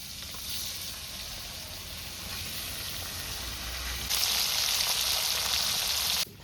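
Fish frying steadily in a pan, a continuous close sizzle and hiss that grows louder and brighter toward the end before cutting off abruptly, with no speech.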